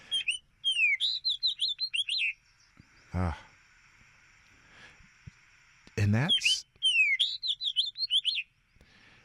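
A fox sparrow sings in winter, bright whistled phrases in quick, repeated bursts, loud and close, with a person's voice briefly breaking in between the songs.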